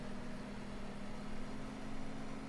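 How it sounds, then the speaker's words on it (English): A tractor engine runs in Farming Simulator 15, a steady droning hum with a constant low tone, faint and even throughout with no voices. "The running sound of this tractor is just terrible."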